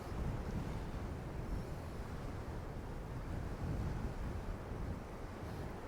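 Strong wind roars steadily across the microphone on a seashore by a harbour wall, a dense, continuous rumble with no break and no voices.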